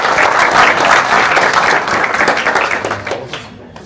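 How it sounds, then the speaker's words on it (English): Audience applause at a Tilburg event as a presenter is called forward: a dense, steady burst of clapping from a crowd that stays loud, then thins out and fades toward the end. "you get a big applause"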